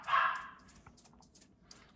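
A dog barks somewhere in the background. One sharp bark comes near the start, followed by fainter, scattered yips over a quiet room.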